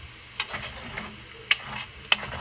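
Potatoes frying in a pan for potato, egg and bacon tacos, a soft sizzle broken by a few sharp scraping and tapping stirs of the utensil against the pan.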